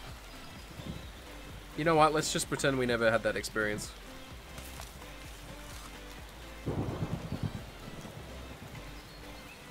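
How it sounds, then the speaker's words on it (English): Rain falls in the Spore video game, a steady wash of noise with rumbling low bursts, heard under a voice talking over it. "Hey, it's raining."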